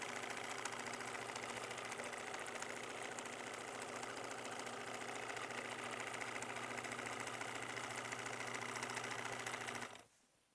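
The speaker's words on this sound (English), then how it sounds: "Flip it over and set the machine on zigzag" Sewing machine running steadily while zigzag stitching the end of a fabric pillowcase, a continuous mechanical whir with rapid regular needle rhythm, close and even for about ten seconds before stopping abruptly.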